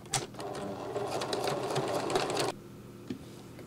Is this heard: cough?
no